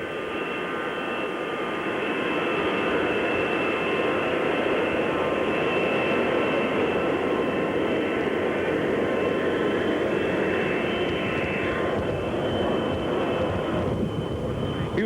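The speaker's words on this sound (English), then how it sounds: "the noise you hear in the background is that of a commercial jet going out to take" Commercial jet engines roaring as an airliner heads out to take off at Love Field airport in Dallas in 1963, a loud sustained whine and rumble with steady tones that hold level, then waver and fade slightly near the end.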